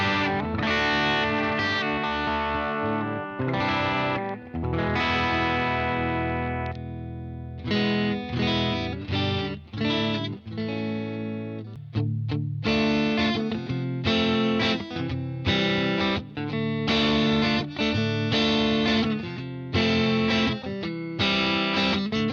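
Electric guitar played through a UA Dream '65 amp pedal with controls centered and reverb and boost off, clean chords and single notes strummed in bursts with short pauses, close and clear with no talking.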